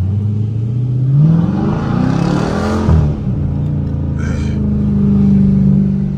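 A widebody Scat Pack 392 engine revs loudly nearby, its pitch climbing and falling in repeated surges over a steady rumble.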